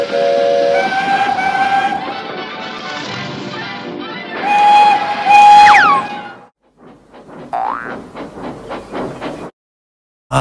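A steam train arrives while its whistle sounds loud and close in two long tonal blasts over rumbling, hissing steam, followed by chuffing exhaust and clanking that fade off.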